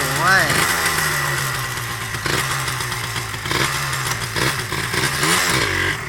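A Honda MTX motorcycle fitted with a Honda Fighter 135 engine runs close by, its loud engine note climbing and dropping through repeated throttle revs while someone talks over it.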